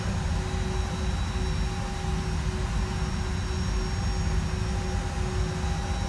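Airbus A320 jet engines whine while taxiing in a flight simulator game, a steady, unbroken drone with a constant high tonal hum, even and moderately loud throughout with no talk.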